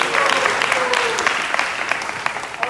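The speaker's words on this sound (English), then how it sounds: "please give her a round of applause and a big hearty welcome" Audience applause welcoming Assemblywoman Jennifer Rajkumar at a Sri Krishna Janmashtami 2022 event, with moderately loud clapping from a crowd where individual claps stand out sharply, continuing steadily throughout.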